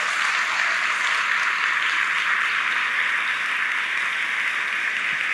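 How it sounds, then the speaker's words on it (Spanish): A crowd welcomes new viewers with broad, continuous applause that holds at an even level throughout, dense and fairly loud with no talking. "Si me ayudan a darle un aplauso de bienvenida a toda la gente nueva que nos está viendo"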